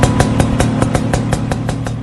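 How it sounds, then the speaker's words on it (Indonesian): A motorcycle outside a boarding house putters with a loud, steady, pulsing engine beat close by, heard alone with no talk. "Terdengar suara motor dari luar yang berhenti di kosnya."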